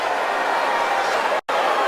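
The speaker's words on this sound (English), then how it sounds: "You could hear them booing in the background" A basketball arena crowd boos a foul called on Tim Duncan against Kevin Durant in a 2014 playoff game, a steady, loud, dense roar that cuts out briefly near the end.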